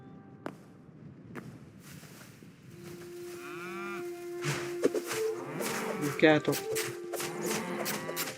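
Cattle in the video game Hytale moo loudly and repeatedly at close range, with long drawn-out calls over light game ambience and a few footsteps, while someone briefly speaks.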